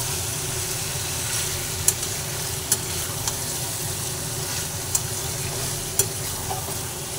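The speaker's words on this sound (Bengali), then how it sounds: "গোলমরিচের গুঁড়ো দিয়ে এবার ভালোভাবে আবার নাড়াচাড়া করে নিচ্ছি।" Malai chicken fries in oil with ground pepper as it is stirred, a steady low sizzle broken by a handful of sharp spoon scrapes and taps against the pan, close and without talk.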